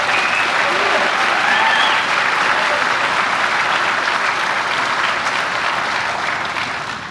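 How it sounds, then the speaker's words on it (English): A graduation ceremony audience at a military academy applauds its drill instructors with loud, dense, sustained clapping that fills the hall, tapering slightly toward the end. "if you'll join me in a round of applause for our DIs,"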